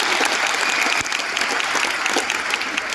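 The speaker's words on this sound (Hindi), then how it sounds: "जोरदार ताली सुनील भाई के लिए, जोरदार ताली नीलू के लिए।" Enthusiastic clapping from an audience at an Amway award ceremony in Delhi, a loud continuous burst of many hands with no voices standing out.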